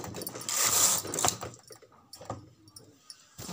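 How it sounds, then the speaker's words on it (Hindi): A knitting machine carriage slides across the needle bed in one brisk rattling sweep, followed by a few softer clicks and taps nearby. "कैरिज को आराम से ले जाएं अपने हिसाब से।"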